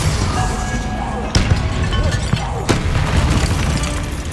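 A Bombarda spell blast in Hogwarts Legacy: loud, close booming impacts with low rumble, a few sharp thuds standing out, and a voice speaking over parts of it.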